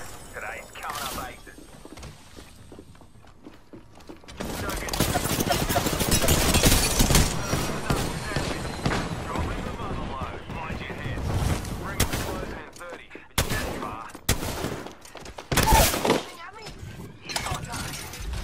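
Rampart's Sheila turret minigun in Apex Legends rattles off long, dense bursts of rapid gunfire, loud and close, broken by short pauses and sharp impacts, with game effects and players talking over it.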